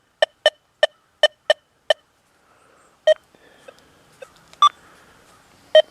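A Deus 2 metal detector sounds its iron tone over a nail: six sharp, evenly spaced beeps in quick succession, a short pause, then scattered, irregular tones of varying pitch, all close and clear with no talking.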